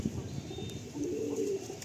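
A female pigeon offered for sale coos softly close by, a low murmuring call rising toward the end over faint background noise.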